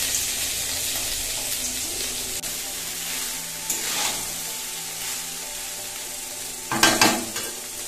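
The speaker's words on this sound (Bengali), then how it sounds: "এর মধ্যে দিয়ে দিচ্ছি একটু আদা কুচি" Chopped ginger goes into a frying pan in a home kitchen, giving a steady sizzle with scraping and stirring, then a brief louder burst of crackling near the end.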